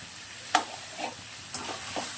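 Egg curry frying in a pan, with a few sparse spoon stirs and scrapes over a quiet, faint sizzle; four soft strokes spaced about half a second apart, no talking.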